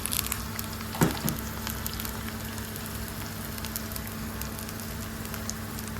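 Curry leaves and chopped onion fry in hot oil for a Kerala mango curry, a steady close sizzle with a brief clatter near the start.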